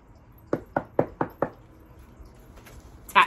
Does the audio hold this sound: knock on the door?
yes